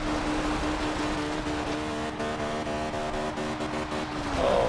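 A classic 50-year-old Mini's engine in Forza Horizon 2 roars steadily and loudly on launch, the pitch climbing with a gear change and tire squeal near the end, with no talk over it.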